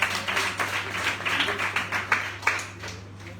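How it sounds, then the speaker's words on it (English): Sparse, uneven hand claps from a small audience at a college event, a few dozen distinct claps in loose rhythm, fairly close, over a steady low electrical hum. "So, a round of applause for them."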